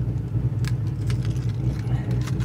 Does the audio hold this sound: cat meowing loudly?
no